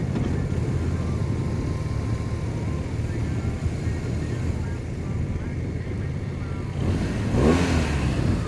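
Motorcycle riding on the Pikes Peak road gives a steady engine and wind drone throughout, with another bike passing close near the end with a brief rising and falling pitch.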